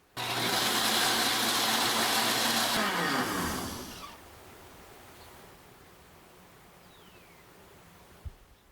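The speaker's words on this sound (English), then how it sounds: "we'll dump it into a blender, along with 3 cups of water, and blend on high for 1 minute" A blender runs on high, loud and steady, as it blends soaked nuts with three cups of water. The motor then winds down and leaves a faint background hush, broken once by a light knock.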